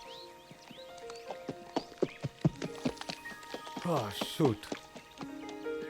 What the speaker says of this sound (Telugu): వైల్డ్ మస్టాంగ్స్.